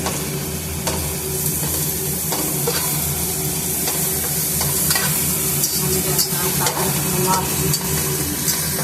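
Ginger garlic paste fries in hot oil in a pan for a fish pulusu, a loud, close, continuous sizzle with a spoon scraping and stirring at an irregular rhythm, no talk.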